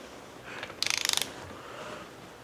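A torque wrench tightens a nut to 73.8 foot-pounds against a holding tool on a bench. A short, quick burst of about ten crisp ratchet clicks sounds close and clear over quiet room noise.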